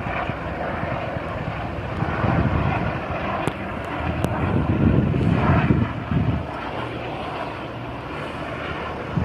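A low rumbling drone of six identical helicopters passing overhead swells and fades, with wind buffeting the microphone and a few faint clicks.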